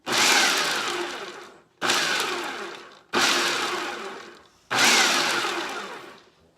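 A kitchen blender pulses fresh pesto sauce in four loud, even bursts, each starting sharply and winding down before the next, with no voices.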